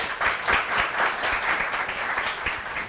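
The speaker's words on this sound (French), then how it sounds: "Je vous demande d'applaudir encore une fois très fort," A crowd at a summer festival ceremony applauds for a reverend, loud, sustained clapping with a gently pulsing rhythm throughout.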